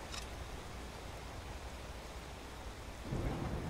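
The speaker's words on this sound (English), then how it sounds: "Maybe we can get out of this dreadful rain" Rain pours steadily in Skyrim, a dense hiss throughout with a deep thunder rumble swelling near the end, no voices.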